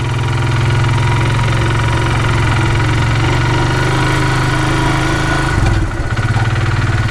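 A motor engine rumbles steadily at close range with a low, throbbing drone, shifting slightly near the end as if a motorcycle moves past.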